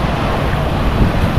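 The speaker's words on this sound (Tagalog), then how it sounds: "Malakas ang hangin." Strong wind buffets the microphone on a Boracay beach, a loud, constant roar of gusts and rumble with surf likely mixed in, no voices.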